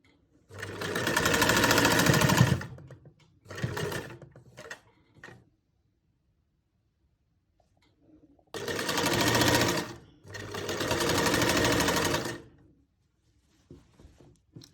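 A sewing machine stitching a garment armhole runs in short bursts: a long run, a brief one, a pause, then two sustained runs, with clicking mechanism noise between and no voices.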